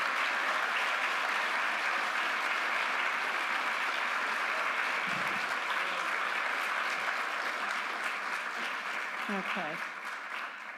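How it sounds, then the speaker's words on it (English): Steady audience applause at a school board candidates forum, a continuous wash of many hands clapping throughout, with a brief spoken word near the end before it begins to thin. "So please give our candidates, our students, our staff, and yourselves a round of applause."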